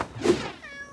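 A cartoon kitten gives a single short, clear meow, close and fairly loud, trailing off into a faint high ring.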